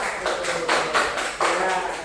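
Students in an Indonesian language classroom clap together in a quick, even rhythm for about two seconds. The bursts are close and fairly loud, with faint voices underneath.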